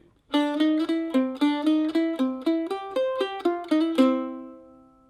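A mandolin picks the second half of the A part of a tune, a quick run of about a dozen bright, evenly spaced plucked notes ending on a ringing final note that decays.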